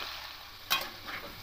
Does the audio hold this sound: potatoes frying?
yes